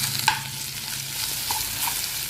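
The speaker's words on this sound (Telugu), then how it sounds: "ఇదంతా బాగా వేగనివ్వాలి." Potato fries with ginger garlic paste, coriander powder and turmeric, a continuous close sizzle broken by a sharp clink or scrape near the start and a few softer stirring taps later.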